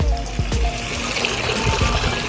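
Water poured into a splash dunk tank at a kids' challenge, a steady trickling splash running under loud nearby voices and background noise.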